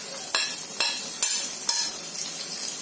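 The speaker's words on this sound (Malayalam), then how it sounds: "ഇതിലേക്ക് കുറച്ച് എണ്ണ കൂടെ ഒഴിച്ചു കൊടുത്തിട്ട് ഇതൊന്ന് വഴറ്റിയെടുക്കാം" Sliced ginger and garlic sizzle in hot oil for Kerala prawn roast, a steady fry broken by four sharp scrapes of a spoon stirring the pan.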